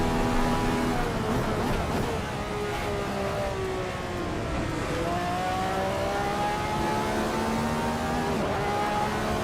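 A Radical race car's engine in Assetto Corsa drones loud and close, pitch rising and falling through gear changes and throttle lifts with no pauses.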